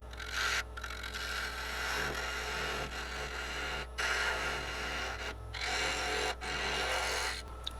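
A gouge scrapes steadily against a small live-edge wooden succulent pot spinning on a lathe, a continuous close rasping drone with brief gaps as the tool lifts off, over a constant low motor hum.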